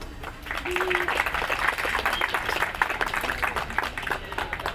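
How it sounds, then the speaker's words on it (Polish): Audience applauding outdoors at an arts festival in Lublin, a steady wash of clapping lasting several seconds, moderately loud with crowd murmur and a brief whistle-like tone mixed in. "Poproszę o brawa."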